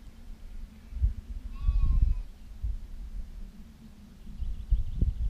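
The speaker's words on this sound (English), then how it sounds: "Mummy sheep looking in the ditch." A ewe bleats once in an open field, a short wavering call at moderate distance over low rumbling wind and handling noise.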